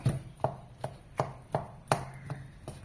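Boiled potatoes and carrots are mashed in a pan for a potato-carrot masala, giving regular soft thumps about every third of a second, close and clear with no talking.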